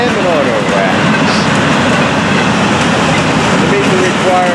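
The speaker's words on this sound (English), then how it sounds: "here's a bunch of auto racks on this train" Freight train hauling auto rack cars rolls past continuously at close range, a steady loud rumble and rattle of wagons filling the whole stretch, with faint squeals rising now and then.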